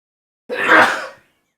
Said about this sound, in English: Wait, I need to sneeze.